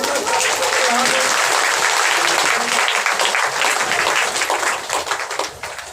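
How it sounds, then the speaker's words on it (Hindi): A church congregation applauds loudly with dense, sustained clapping that tapers off near the end, a faint voice briefly audible beneath it. "जोरदार ताली बजा के प्रभु का"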